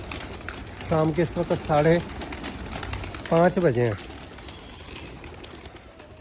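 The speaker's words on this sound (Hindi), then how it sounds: "ये ले कबूतरों को उड़ाने का टाइम हो गया।" Pigeons coo in a few short bursts at evening flying time, someone speaking over them in the foreground.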